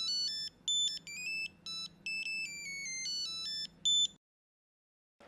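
A phone plays a bright electronic ringtone melody in repeated beeping bursts, then stops abruptly and leaves silence.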